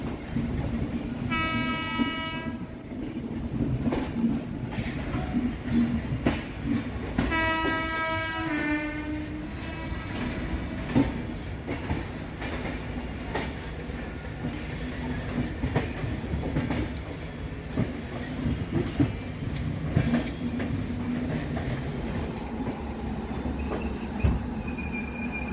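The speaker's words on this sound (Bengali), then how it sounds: "ওয়ান 2342 অগ্নিবীণা এক্সপ্রেস হাওড়া ঢুকছে" Agniveena Express pulling into Howrah station, a steady rumble of rolling wagons with two loud horn blasts near the start and squealing, clacking wheels throughout, no voices.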